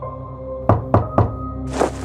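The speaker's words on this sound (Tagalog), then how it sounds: "mula sa pinto naman sa labas ay may narinig kaming 3 katok" Three evenly spaced knocks thud on a door, firm and close, followed by a brief rustle, used as a sound effect in a spoken horror story set in an old ancestral house.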